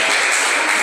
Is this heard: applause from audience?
yes